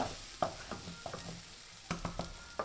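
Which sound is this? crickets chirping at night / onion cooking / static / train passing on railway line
onion cooking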